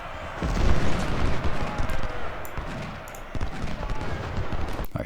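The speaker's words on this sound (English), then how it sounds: "What is that? Cannon fire." Cannon fire on a Civil War battlefield at Cold Harbor in Ultimate General: Civil War: repeated heavy booms and rumbling volleys, loud and fairly close, rolling over one another in an almost continuous barrage with a voice speaking beneath it.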